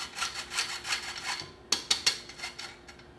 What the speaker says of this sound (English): now you can use a whisk or like a spatula and we'll mix this together.